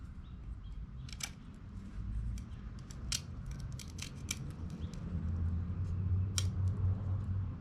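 A Dark Timber Knives Comanche, a mid-tech custom knife, cuts through material in a series of sharp, crisp snips and scrapes. The cuts land at irregular intervals over a steady low background hum.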